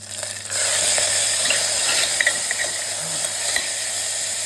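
Garlic for rasam hits hot oil in a pan with a sudden burst of sizzling that continues as a steady crackling fry, with faint stirring clinks.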